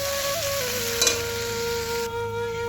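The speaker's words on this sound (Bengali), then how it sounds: "এই যে জল দিয়ে দিয়েছি।" Spiced cauliflower and potato sizzling steadily in a pan as water goes in, a brief hiss near the middle over a constant hum, with no talking, cooked for an Itu puja vegetarian meal.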